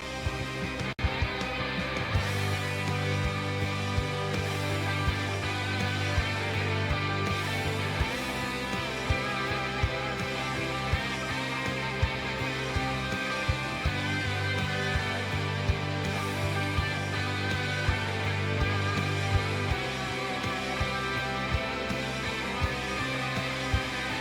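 An electric guitar plays a heavy, sustained solo line through an Ibanez tube driver with an octave-down pedal, thick low tones ringing continuously under a steady wash of distortion.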